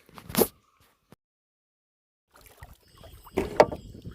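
Oars of a small wooden boat splash and knock against the water in two separated strokes while out fishing, with near silence between them and faint wind around.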